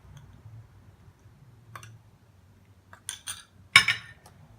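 A spoon clinks and taps in a bowl while mixing a gram flour, sandalwood powder, honey and grape paste face pack, sparse faint clicks building to a few sharper knocks near the end, in a quiet room.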